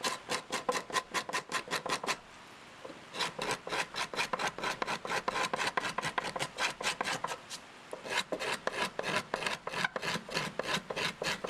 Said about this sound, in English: I start with scrapers.